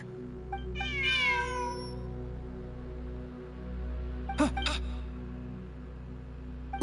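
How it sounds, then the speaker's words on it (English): A cat in a video game lets out one drawn-out, falling meow near the start, followed later by a couple of short sharp clicks, all over a steady low background hum. "Look! A cat!"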